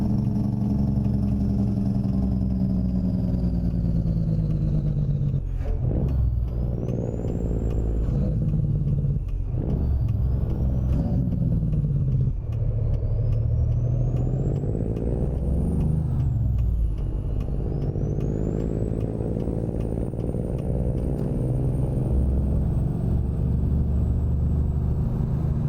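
Heavy truck engines rumble steadily in American Truck Simulator, with loud hissing air brake releases and rising engine tones as the vehicles shift and accelerate.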